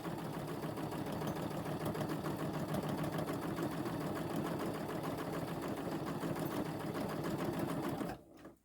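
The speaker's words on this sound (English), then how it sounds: "We're going to set down our presser foot and we're going to keep stitching." Sewing machine stitching a traditional pillow with the presser foot down, with a continuous, even mechanical whir and rapid needle rhythm running for about eight seconds before stopping suddenly.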